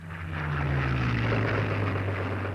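A World War II-era propeller aircraft drones overhead with a loud, steady, continuous engine hum that swells slightly and holds without pause.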